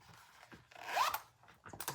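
Zipper pulled along a full zipper pocket on a handmade leather roper wallet, one quick close rasp rising in pitch followed by a few faint clicks and rustles.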